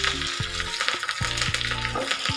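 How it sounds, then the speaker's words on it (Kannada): Mustard seeds, dry red chillies and curry leaves sizzle loudly in hot tempering oil, a steady crackle broken by several sharp pops and spits, close and with no talk. "ಸಾಸಿವೆ ಸಿಡಿದ್ಮೇಲೆ ಒಂದೆರಡು ಒಣಮೆಣಸಿನ್ಕಾಯಿನೂ ಹಾಕೋಣ. ಜೊತೆಗೆ ಕರಿಬೇವನ್ನು ಹಾಕಿ"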